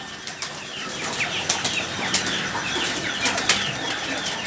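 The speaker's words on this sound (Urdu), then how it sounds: "بریانی کھاتے ہوئے کبوتر جی" Pigeons flapping their wings while eating spicy biryani, with repeated bursts of wingbeats and fluttering at close range over a steady outdoor background, no talk.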